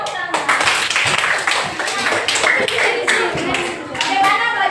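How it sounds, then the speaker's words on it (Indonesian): A classroom of pupils clapping their hands, a dense run of overlapping claps close by, mixed with children's voices calling out. "Tepuk tangan."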